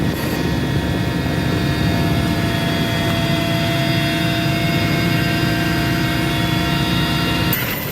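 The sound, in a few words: CASA NC-212 aircraft for forest fire waterbombing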